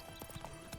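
Hooves of Roach, the horse in The Witcher 3: Wild Hunt, clop in a quick galloping rhythm, faint and somewhat muffled, with a soft whinny-like trace in the background.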